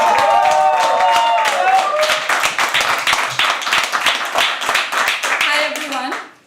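An open-mic poetry audience claps for a first-time performer, steady loud clapping from a small crowd with some voices mixed in, tapering off and cutting out near the end.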